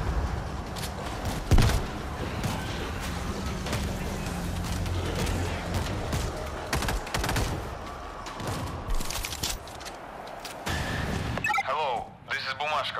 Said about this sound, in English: We're hearing gunfire from the river.